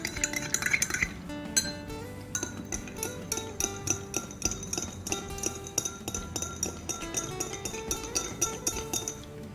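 Two chemistry solutions are stirred until homogeneous, with a glass rod or spoon clinking rapidly and rhythmically against glassware in a steady run of bright taps lasting several seconds.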